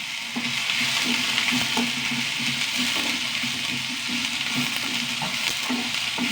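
Onions frying in oil with cardamom, cinnamon and cloves, a loud continuous sizzle with a rhythmic pattern of spatula strokes across the pan, nobody speaking.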